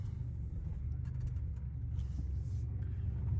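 Steady low rumble of a Chrysler 300 car driving on worn-out tires and sliding, heard from inside as a continuous engine and road drone with no pauses or distinct events.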